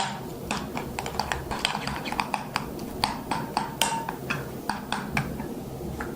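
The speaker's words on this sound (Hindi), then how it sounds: "उसके बाद इसको मिक्स करना है आपने।" A spoon clinks and scrapes repeatedly against a bowl while mixing a mixture with honey added, producing a steady run of sharp, close taps and clatters heard alone.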